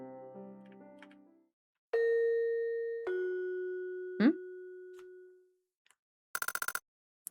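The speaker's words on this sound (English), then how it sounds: "The sound of a doorbell." A two-tone doorbell chime in a video game rings out loud and clear, each tone ringing on with a long fade, followed by a quick burst of rapid clicks; a brief murmur of a voice comes just before.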